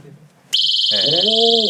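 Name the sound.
portable SOS emergency alarm sounding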